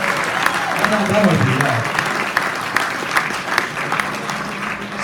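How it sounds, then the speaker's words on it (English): Audience applauds an award recipient at a green building event, steady clapping sustained throughout while a voice speaks over it. "Let's give them a round of applause."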